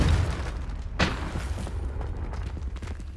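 Confringo fire spell detonating in Hogwarts Legacy on PS5: a single sharp explosive crack about a second in, over low rumbling game ambience, with smaller pops trailing after.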